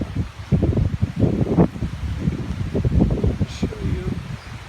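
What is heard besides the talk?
strong wind rustling leaves after hail storm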